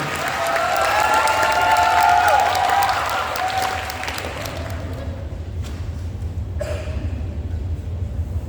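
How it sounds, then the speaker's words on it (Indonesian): A theatre audience applauds and cheers after a school class's performance is announced, with dense clapping swelling loudly and then thinning out to a few scattered claps. "Beri tepuk tangan yang meriah."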